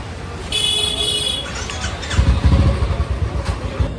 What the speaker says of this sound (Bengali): ওই বাইক